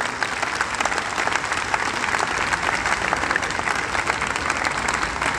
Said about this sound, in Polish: Więc jeszcze raz brawa dla orkiestry André Rieu.